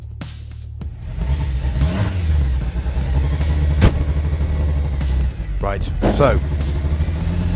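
A Lancia Delta S4 rally car driven by someone, its engine rumbling and revving in rising and falling bursts close by, with someone talking briefly over it.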